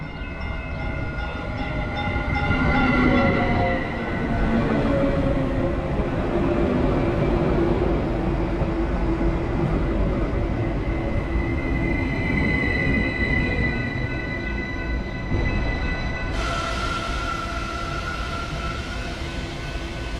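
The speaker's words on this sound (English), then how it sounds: "our train waits for the northbound service to arrive before proceeding south" A commuter train idles at a Texas station platform and rumbles with squealing wheels and metallic groans, a steady loud mechanical din with no voices.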